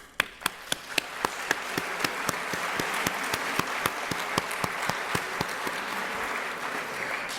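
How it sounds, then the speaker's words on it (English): An audience applauds at a nursing convocation, starting with a few distinct claps that quickly build into steady, sustained applause from the crowd in a hall. "let's give them a clap"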